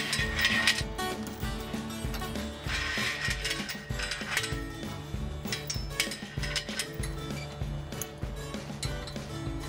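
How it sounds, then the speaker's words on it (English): Belly winch on a Wrangler hoof-care crate being wound to wrap the chain around the shaft, a loud, close, continuous metallic ratcheting and clanking of gears that rises and falls in rhythm. "Wind the winch to wrap the chain around the shaft"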